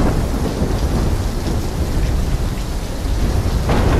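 A video game thunderstorm with heavy rain, dense and loud throughout, the rumble of thunder rolling under a constant downpour with no voices.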